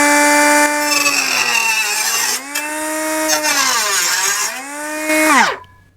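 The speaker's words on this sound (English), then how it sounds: "Now I've got the carbide multi-cutting disc in each one of them, and we're going to try the plastic." A 12V cordless cutoff tool with a carbide multi-cutting disc slicing into plastic, a loud high-pitched whine that dips and recovers under load a few times, then spins down and stops.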